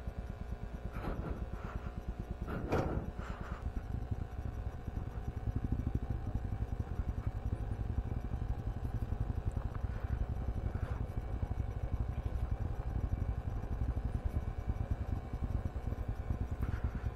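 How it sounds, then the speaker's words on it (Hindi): A warmed-up motorcycle engine runs steadily on a mountain track, a low continuous rumble close by with a few brief sharper knocks early on and no talk. "बाइक का भी वार्म अप हो गया है"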